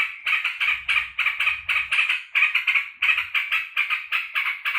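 A caged sooty-headed bulbul (trucukan) chatters loudly and rapidly, close up, in a long run of repeated bright chirping notes with a steady pulsing rhythm and brief pauses.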